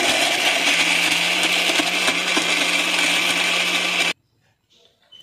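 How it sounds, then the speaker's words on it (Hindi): A kitchen mixer grinder whirs loudly and steadily as it grinds garam masala spices in its jar, then cuts off abruptly, leaving near silence. "मैंने मिक्सी के जार में ऐड कर लिया, इसको हम यहाँ पे ग्राइंड कर लेते हैं"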